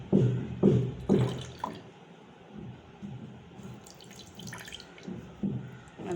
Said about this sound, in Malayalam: ഈ 2 ഗ്ലാസ്സിലോട്ട് നമുക്ക് നാരങ്ങ നീര് ഒഴിച്ചു കൊടുക്കാം